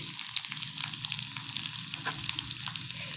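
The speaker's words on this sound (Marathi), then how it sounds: "त्याच्यानंतर लांब लांब चिरलेला कांदा आहे तो घालून घेऊया।" Long-sliced onions frying in oil with green chillies for a Maharashtrian shev bhaji, a steady close sizzle and crackle with a few stirring scrapes, no talking.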